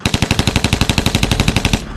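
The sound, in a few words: gunfire sound effect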